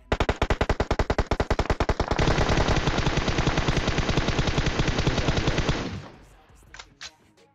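Video game gunfire: rapid automatic bursts, first as distinct evenly spaced shots, then a dense continuous volley lasting several seconds before cutting off, followed by a few scattered faint clicks.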